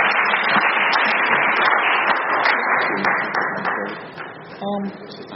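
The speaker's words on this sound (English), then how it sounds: "give a nice round of applause" An audience at an AA speaker meeting claps steadily as applause for the speaker, a dense sustained patter that thins and fades toward the end.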